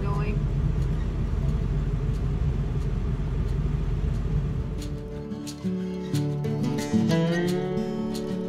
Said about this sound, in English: Quite a few trucks coming and going.